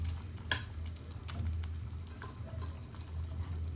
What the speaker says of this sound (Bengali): এবার মাছগুলো দিয়ে দিচ্ছি